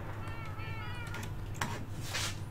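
Minecraft cats meow repeatedly at moderate loudness over a steady background hum, while a person talks alongside them.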